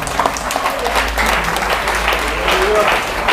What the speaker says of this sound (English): Clap for the God of Oshofa